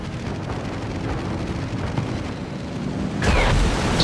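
Dive bombers strike warships in the naval combat game World of Warships: a continuous heavy rumble of blasts and churning noise that swells into a louder, sharper explosion near the end, with no voices.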